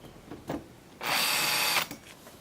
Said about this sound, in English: Now you can go ahead and drill the rest of the holes through your back beam.